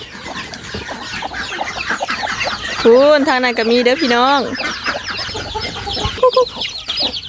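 Chickens on a rural Lao farm cluck and squawk close by in a busy, overlapping stream, with one louder rising call standing out midway, while a person talks over the birds.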